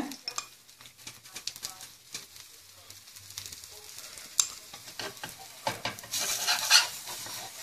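Kari dosa topped with a large mutton kola urundai frying in sesame oil, giving a quiet ongoing crackle with scattered utensil scrapes and taps, a brighter hiss swelling near the end, and no speech.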